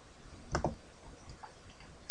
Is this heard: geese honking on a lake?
no